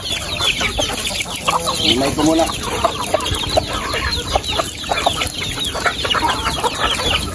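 Farmyard chickens clucking busily as they are fed corn at a rural provincial home, a steady chorus of overlapping clucks close by, with someone talking over them.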